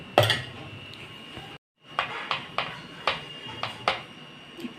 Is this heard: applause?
no